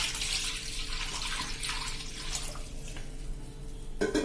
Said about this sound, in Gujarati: એક વાસણ લઉં છું અને એમાં આપણે 1 લીટર જેવું પાણી લઈ લેશું